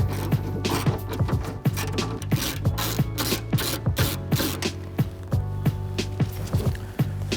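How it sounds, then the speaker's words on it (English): An 8mm socket wrench loosens a nut on a BMW 5 Series tail light stud with a rhythmic series of short ratcheting clicks and scrapes, close and repeated with no talking. "We're gonna loosen the nut."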